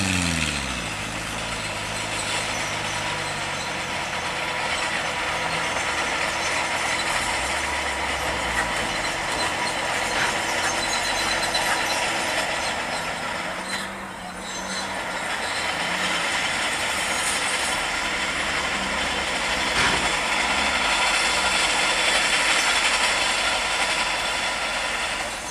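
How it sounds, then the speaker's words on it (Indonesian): A bulldozer levels ground at a toll road exit, giving a continuous heavy rumbling, roaring drone that holds steady and fairly loud for the whole stretch, dipping briefly midway, with no talking. "Berisik ya guys, soalnya itu di depan tuh ada bulldozer lagi meratakan"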